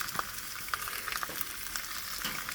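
Bok choy stem pieces fry in a hot pan, a dense, even, fairly quiet sizzle with small crackles and pops throughout, heard close with no talking.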